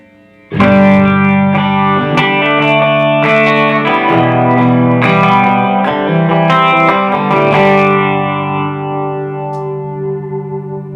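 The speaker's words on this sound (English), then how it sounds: "It's meant to emulate an old 80s chorus rack effect, a tri-chorus." Electric guitar chords shimmer through a wide, swirling tri-chorus effect emulating an old 1980s chorus rack, blended with some dry guitar, strummed repeatedly and left to ring out at the end.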